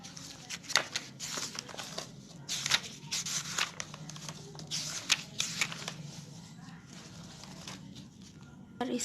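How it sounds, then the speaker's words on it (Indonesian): Archive papers and dividers are slid and shuffled into a folder, giving repeated close paper rustles, crinkles and flaps in an irregular rhythm with a low hum underneath. "Selanjutnya arsip beserta sekat tersebut kita masukkan ke dalam map agar tersusun dengan rapi"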